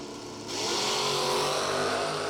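Drag racing cars at a 1.1 million dollar drag race, including a 1957 Chevrolet, load up against the torque converter at the start line, a loud sustained engine roar that swells sharply after a brief moment and holds steady.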